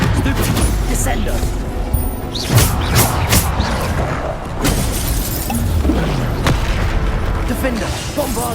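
Bombarda explosion spells go off in the Hogwarts Legacy video game amid a chaotic combat mix of repeated booms, shattering bursts and crackling impacts, loud and close, with overlapping game sound throughout.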